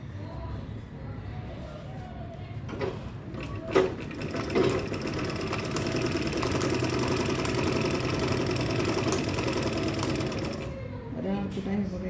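Sewing machine stitching a travel bag: a steady mechanical whirring run of rapid stitches close by, preceded by a few short clicks and bursts, with a person talking over it.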